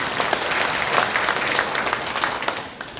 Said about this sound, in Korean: 박수 한번 칩시다 일단